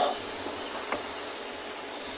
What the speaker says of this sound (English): Got some insects, some frogs.